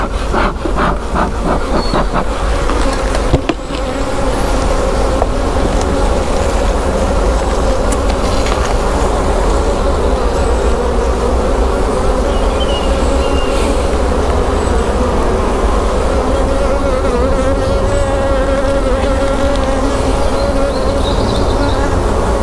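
Buckfast honeybees droning steadily at an open hive during a frame inspection, a continuous loud hum with a hissy edge running unbroken throughout, no talking.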